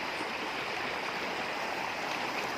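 Heavy rainwater torrent pouring down from the surrounding hills during an unseasonal summer downpour, a dense, continuous roar of rushing water, loud and close, with no voices.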